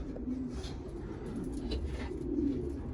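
Red Mülemann racing pigeons cooing in a rooftop loft, low soft coos repeating close by against a steady background hum.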